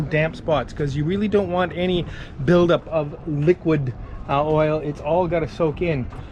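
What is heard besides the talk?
No distinct noise like a dog, phone or traffic.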